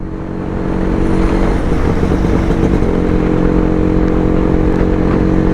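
A Yezdi Roadking motorcycle engine held on throttle during an early-morning ride, a steady, loud, close drone that rises over the first second and then holds, with wind rush and faint clatter underneath, no voices.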